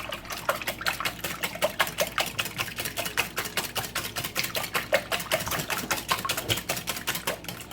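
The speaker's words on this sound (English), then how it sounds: "Now I'm gonna whisk that together." Eggs and liquid egg whites are whisked together in a bowl for muffin tin quiche. A fast, steady, close rhythmic clatter runs continuously, with no talking.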